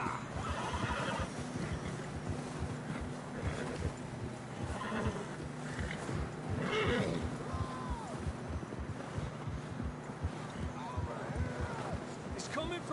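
Horses in the video game Red Dead Redemption 2 neigh and whinny over busy hoof clip-clop and wind, a continuous outdoor ride with people talking throughout.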